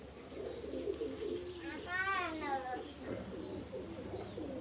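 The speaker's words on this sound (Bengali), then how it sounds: "কবুতরটা আমি ছাড়ছি, দেখেন" A pigeon coos once in a short warbling burst mid-way, moderately close, while someone talks over a noisy outdoor background.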